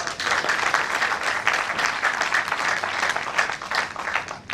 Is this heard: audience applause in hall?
yes